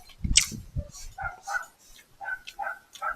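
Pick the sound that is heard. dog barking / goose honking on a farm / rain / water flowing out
dog barking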